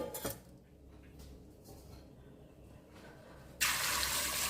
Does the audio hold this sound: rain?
no